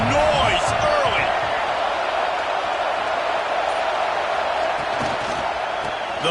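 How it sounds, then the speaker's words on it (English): Steady roar of a stadium crowd at a college football game between Michigan and Florida, a dense, continuous wash of cheering voices held at even loudness throughout, with a commentator's voice faintly over it. "This crowd bringing the energy and noise early."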